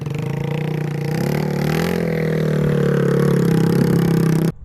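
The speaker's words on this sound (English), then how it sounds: "at least now we know what the annoy your neighbors no muffler sound is" Minibike on tracks running with its muffler gone, a loud, steady, raw unmuffled engine drone held close by for several seconds, rising slightly midway before cutting off abruptly at the end.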